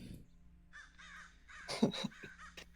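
A crow caws a few harsh times in the video game 10 Candles, fairly close, with a voice murmuring faintly underneath.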